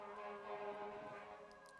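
A passing fire truck's siren wails faintly with a steady sustained tone against a low background rumble, heard at a distance with no clear talk.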